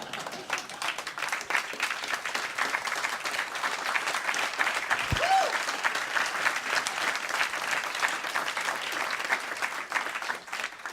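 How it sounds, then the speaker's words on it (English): Sustained, dense applause from a large audience, steady and loud throughout with no break. "you gave the largest round of applause to yourselves"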